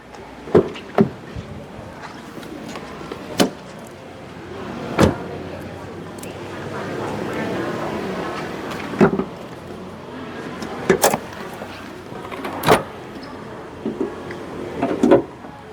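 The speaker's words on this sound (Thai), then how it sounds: "เดี๋ยวผมเปิดฝาโปรงให้ดูห้องเครื่องครับ" On a Ford Everest Wildtrak 4x4 with a 2.0-litre bi-turbo engine, sharp metallic clicks, clunks and latch thuds recur as the bonnet is released and raised, with quieter handling noise between the bangs.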